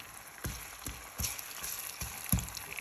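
Onions cooking in a pan for ojja give a quiet, steady sizzle broken every half second or so by soft clicks and scrapes of stirring.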